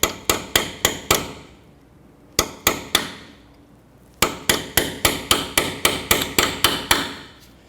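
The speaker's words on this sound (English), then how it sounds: "Take a small punch and see if we can push this out" A hammer strikes a small punch to drive a broken cotter pin out of the front hub of a 2006–2012 Toyota RAV4, in sharp, ringing metallic blows close by: five quick hits, a pause, three more, then a longer run of about a dozen.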